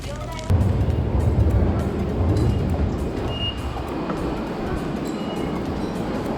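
Rumbling train noise inside busy Shibuya station in Japan, a low continuous roar with clatter and faint higher squeals, fairly close and steady.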